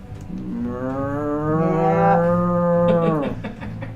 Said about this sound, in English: a faint mooing sound. Like cow.